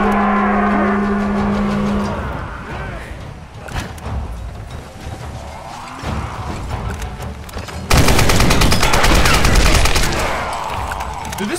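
Gunshots ring out in the Tomb Raider game, with scattered reports and bursts through a noisy battle mix, then a loud dense volley near the end, with game voices and effects throughout.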